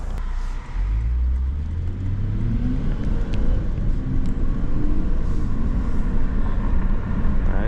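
A 2023 Lexus RC 350 F Sport accelerates on the road, its engine note rising in pitch over a loud, steady rumble heard from inside the cabin.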